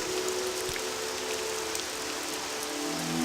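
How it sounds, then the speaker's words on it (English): Steady rain falls in the Morrowind video game, a dense, even hiss of drops spread across the whole clip with no pauses, loud and close, with no voices. "it's raining, so the game will make it darker out"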